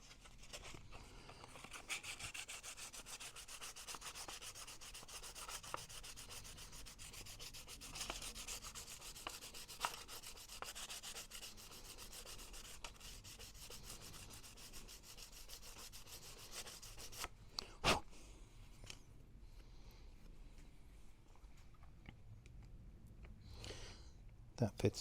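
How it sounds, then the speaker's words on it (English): Rubbing wet and dry sandpaper along the edge of a part for a 1/6 scale Armortek Series 1 Land Rover model, a faint, steady scratching stroke repeated close by, with a brief louder scrape near the end. "I'm just going to take the edge off of this with a bit of sandpaper"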